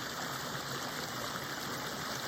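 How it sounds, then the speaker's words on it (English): A small waterfall in a muddy creek, heard as a steady, close rush of falling water that holds unbroken throughout, with no voices over it. "There's a little waterfall in the creek,"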